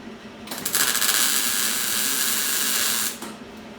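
Spot welding during rust repair on the wheel arch of a 1990 Dodge Ram, welder set on 3: a single loud, close buzzing burst lasting about two and a half seconds, cutting off sharply, with no talk.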